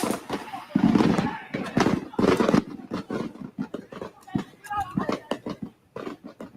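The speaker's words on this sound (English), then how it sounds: "fireworks were still going off and people were rushing to get help" Fireworks go off at the scene of a holiday explosion in Honolulu, sharp bangs and crackles that burst loudly in clusters among shouting and talking voices.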